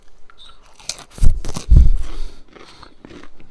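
Southern fried cornbread with onions being bitten and chewed up close, a few crisp crunchy bites followed by softer chewing noises, with no talking.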